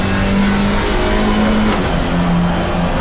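Race car in an Alpine cup race accelerating hard out of a chicane, a loud close engine note climbing through the gears with a brief shift dip, steady and uninterrupted.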